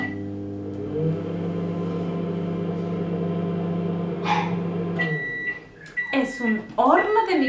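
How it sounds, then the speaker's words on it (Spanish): A microwave hums steadily for about five seconds, then stops and gives a few sharp beeps, followed by brief voices. "Es un horno de microondas."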